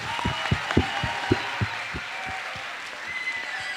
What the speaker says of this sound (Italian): un bel applauso ragazzi, un bel applauso